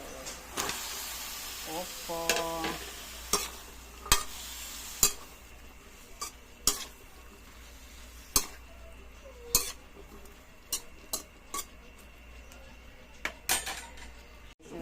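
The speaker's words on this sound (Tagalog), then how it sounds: "Guys, mix na natin guys yung ating upo." Sardines and bottle gourd stirred in a pan on a home stove, a series of sharp spoon-against-pan knocks and scrapes spaced every second or so over a quiet background, with a short hum early on.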